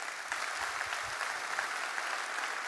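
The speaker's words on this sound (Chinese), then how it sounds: "我们给台湾人一个掌声" Seminar audience bursts into sustained applause, a dense, even roar of many hands clapping that starts abruptly and continues steadily without talk.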